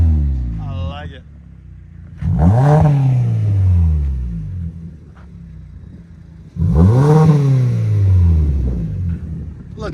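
Two loud revs of a 2014 Kia Optima EX's 2.4L GDI engine, run with a muffler delete and quad tips, each rising sharply from a low rumbling idle and sinking back, heard up close.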